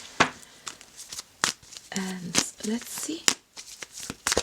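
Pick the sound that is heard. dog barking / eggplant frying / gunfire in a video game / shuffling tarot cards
shuffling tarot cards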